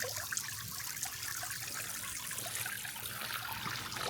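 Water pours steadily from a hose into a small pond waterfall built in a canoe, a continuous close splashing and trickling with no voices.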